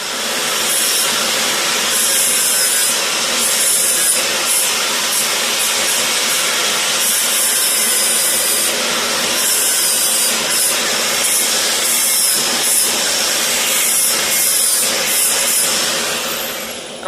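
An angle grinder with a flat tip sharpens a drill bit in a blacksmith shop, a steady loud abrasive grinding hiss running continuously throughout with slight fluctuations as the bit is worked against the wheel.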